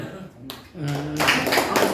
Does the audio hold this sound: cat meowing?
no